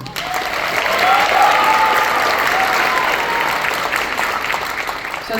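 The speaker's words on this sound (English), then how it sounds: "Let's have another round of applause for Mr." A school auditorium audience at a county honors band concert gives a loud, sustained round of applause that swells early and then holds steady, with crowd noise but no clear talk.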